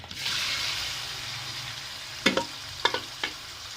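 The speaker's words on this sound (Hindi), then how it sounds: "ऑयल जो है प्रॉपर गर्म है। गोश्त इसके अंदर डाल देंगे।" Chicken pieces for a white chicken karahi dropping into hot oil, a steady sizzle with a few sharp splashy bursts as pieces go in, close by and fairly loud.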